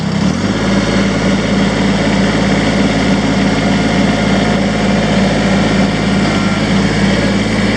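A Kubota 2360 tractor engine runs loud and steady throughout, holding a constant drone as the hydraulic lift is raised, with no talk over it.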